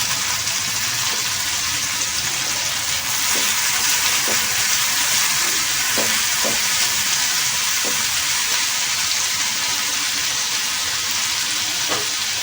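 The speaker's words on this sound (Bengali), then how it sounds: "এই 5-6টা মতো রসুন বাটা আছে, সেই রসুন বাটাটা আমি পেঁয়াজের মধ্যে দিয়ে দিলাম।" Garlic paste and onions sizzle steadily in a hot pan for lasooni paneer, a continuous bright frying hiss with occasional soft stirring knocks, close and alone without talk.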